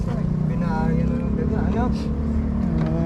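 A loud engine runs steadily close by, a continuous low rumble with someone talking over it.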